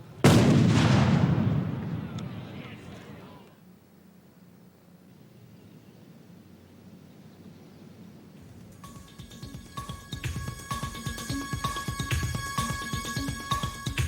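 A Civil War reenactment cannon battery fires one loud, close boom that rumbles and fades over a few seconds, then a ringing, clattering tail of noise follows.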